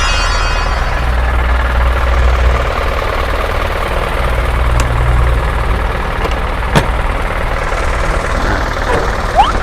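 An Isuzu FRR 210-horsepower medium diesel truck engine idles steadily nearby, a continuous low rumble with a few faint clicks and knocks over it.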